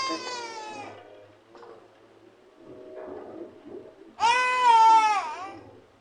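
A house cat meows twice, close by, with a long, drawn-out cry first and a louder, rising-then-falling call a few seconds later. Faint indoor noise fills the gap between the calls.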